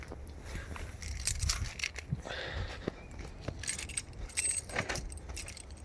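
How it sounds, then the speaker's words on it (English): A bunch of keys jingles and clinks close by in several short rattling bursts, with soft handling noises in between. "let me go ahead, grab my keys"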